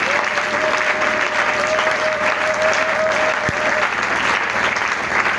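A church congregation at a Sunday service claps loudly and steadily for several seconds, a dense continuous applause with a brief sustained tone and faint voices underneath.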